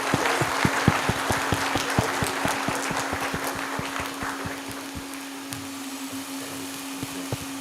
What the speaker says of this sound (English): Let us continue clapping.